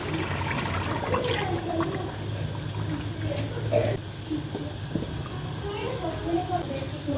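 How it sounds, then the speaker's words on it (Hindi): A full jug of water is poured into a pot of desi chicken curry, making a continuous splashing, gushing rush of liquid that runs steadily throughout at close range. "पानी में पूरा जग डाल"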